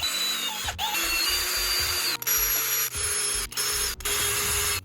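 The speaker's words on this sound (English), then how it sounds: "we'll take and hit them with some sandpaper and clean them up" Sandpaper rubbing over the small metal horn contacts pulled from a Chevy/GMC steering column, a steady continuous scraping close up with brief pauses between strokes and no talking.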